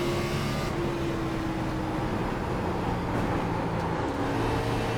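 Maconi B-Fixed race car lapping Rockingham in the iRacing game, a steady engine drone holding a constant pitch with slight shifts, continuous and even in level, no talking.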